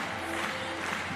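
Audience applause at a wheelchair tennis match, a steady even patter of many hands clapping, fairly faint and continuous throughout.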